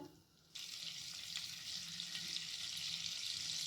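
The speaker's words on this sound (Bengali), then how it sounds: "কড়াইয়ে সাদা তেল গরম হতে দিলাম, তার সাথে একটু বাটার দিলাম।" White oil and butter heat in a wok, starting quiet and then breaking into a continuous close, hissing sizzle that holds steady to the end without any talk.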